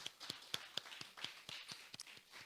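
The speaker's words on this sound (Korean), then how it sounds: "우리 박수 한번 하시겠습니다" Handful of faint, evenly spaced claps from a congregation at a Friday evening church worship service, soft and sparse, fading into the room quiet.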